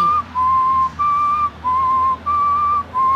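A man whistles a gentle Wagner melody in short, evenly spaced phrases, clear and close with a quiet background.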